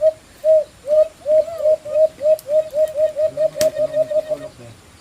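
A person imitates a bird call, a kukulok, by blowing into cupped hands, giving a run of soft hooting coos in a fast, steady rhythm that quickens toward the end. Other sounds are faint in the background.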